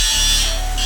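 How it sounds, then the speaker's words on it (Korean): Steel H-beams cut to length being ground smooth, a steady high-pitched abrasive whine running continuously at close range with no pauses. "재단된 빔은 연마 작업을 진행해줍니다"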